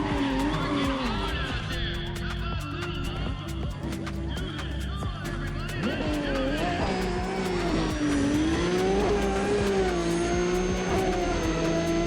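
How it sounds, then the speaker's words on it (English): A street-racing car engine in Need for Speed: ProStreet, harsh and strained, whines and rises in pitch through shifting revs, with tire noise and sharp clicks over a steady mix and faint talk underneath. "my car sounds like I've got the devil in extreme bondage stuck in it"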